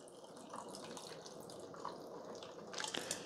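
Coffee from a Ninja 10-Cup Specialty Coffee Maker CM401 being poured over ice, a soft steady liquid trickle with faint drips and a few brighter splashes near the end, heard alone without talk.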